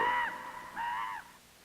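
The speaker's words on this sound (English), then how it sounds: "The raven's call is heard above a changeless wilderness" A raven gives two hoarse, drawn-out croaking calls in quick succession, clear and fairly close against a quiet background in the lake and forest wilderness of Northwestern Ontario.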